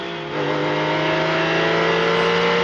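Porsche 997 GT3 RS accelerating hard past in a drag race, its engine note climbing loud and steady from a brief quieter start into a sustained high-revving roar, no talking.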